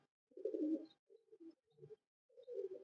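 Pigeons coo in several soft, low, rolling phrases with short pauses between them, close by against quiet surroundings.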